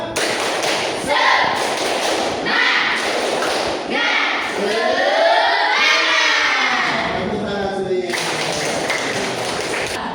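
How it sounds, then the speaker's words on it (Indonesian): A class of schoolchildren does a rhythmic spirit clap during an Indonesian primary lesson. The claps come as loud, repeated thumps, with shouting and cheering children heard over them. "1, 2, 3, tepuk semangat."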